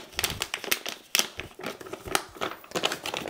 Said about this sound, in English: Let's pop open the zipper.